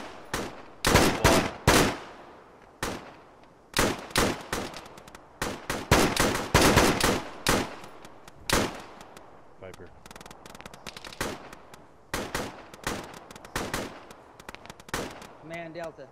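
Sharp, loud bursts of rifle and machine-gun fire in an Arma military simulation, squad engaging an enemy fire team about 100 meters southeast; irregular clusters of shots close by, with a few distant pops and radio talk between volleys.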